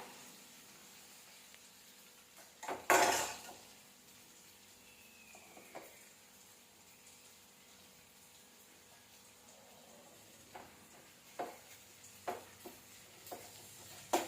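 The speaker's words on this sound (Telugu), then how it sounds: "ఇలా అన్నం అంతా వేసుకొని కలిపేసుకోవాలండి చూడండి ఇలా అంతా మొత్తం కలిపేలాగా" Hot cooked rice tips into a pan of lemon rice seasoning with one brief loud rustling thump, followed by faint, scattered scrapes and taps as it is stirred and mixed in a quiet kitchen.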